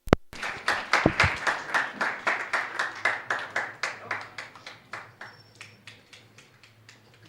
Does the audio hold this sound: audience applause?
yes